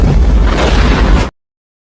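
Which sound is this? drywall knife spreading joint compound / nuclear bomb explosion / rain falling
nuclear bomb explosion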